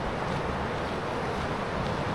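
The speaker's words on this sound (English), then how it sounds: "So you can hear the river on my right." River flowing beside a walking path on the way to water wheels, a steady broadband rushing wash with some wind buffeting on the microphone, continuous and fairly close.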